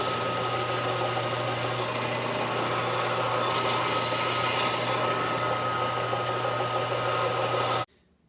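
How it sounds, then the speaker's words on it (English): A belt sander runs steadily while shaping a wooden handle for a forged boarding axe, a continuous close whirring drone with slight pressure shifts as the wood is worked, cutting off abruptly at the end. "I'm going to take it to my belt sander, clean it up, cut this to the shape where it fits in the socket of the axe"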